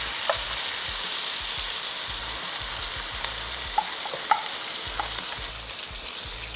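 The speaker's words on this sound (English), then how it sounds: "the beef is starting to fry and we have some real nice color going on here" Beef sizzles and fries steadily in a pan as browning begins, a constant close hiss with a few soft stirring clicks and pops, no voices.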